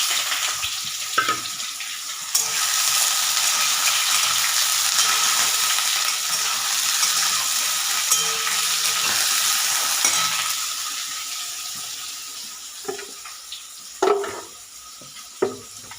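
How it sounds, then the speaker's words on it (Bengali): Soybean chunks frying in refined oil in a pan give a loud, continuous sizzle with scraping stirs, fading a little toward the end with a few clinks and knocks. "এরকম এর মধ্যে সোয়াবিনটা দিয়ে দিই"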